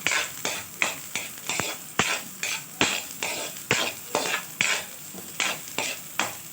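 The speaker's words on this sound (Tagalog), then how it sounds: "ngayon gagawin nating brown itong sibuyas bago natin ilagay yung gineling" Onions brown in a pan, a bright sizzle broken every half second or so by sharp scraping stirs. The strokes are close and loud and keep an even rhythm, with no one speaking.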